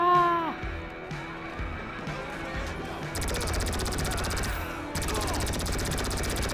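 Rapid automatic gunfire rattles in GTA 5, two sustained bursts of fast repeated shots over background commotion, with a voice heard near the start.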